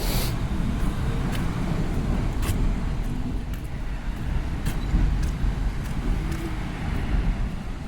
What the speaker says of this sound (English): You can hear those container trucks long before you see them.